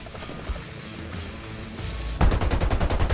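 Gunfire in the War Thunder Mobile game during an infantry event, as rapid automatic bursts with a dense rhythmic rattle that grows louder and heavier toward the end, over battle noise.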